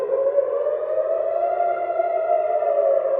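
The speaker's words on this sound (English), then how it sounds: "Yeah, that's the siren." An air raid siren in Israel wails steadily, a loud sustained rising tone with strong harmonics that swells slightly and holds throughout, with no voices.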